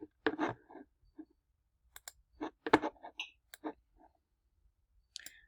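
Computer mouse clicks as shapes are copied and pasted with right-click menus in a drawing program, a series of sharp, close, isolated clicks spaced irregularly over several seconds with quiet between them.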